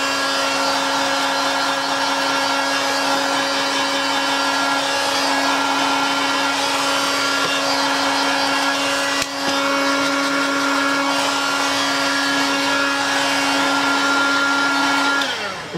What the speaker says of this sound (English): Here's a trusty old heat gun.